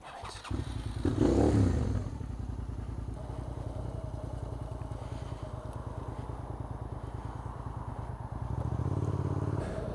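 A motorcycle rides along at night, its engine droning steadily and fairly quietly after a louder throttle rise near the start, then swelling again toward the end as it picks up speed.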